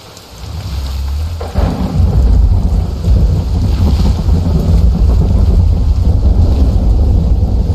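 Heavy rain pours steadily while deep thunder rumbles underneath, a loud continuous storm in the video game The Isle Legacy that swells up after a quieter first second.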